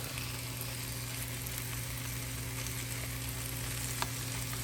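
Ground meat frying in a hot pan with a loud, constant sizzle throughout, sounding close up as it is broken apart with the side of a spatula.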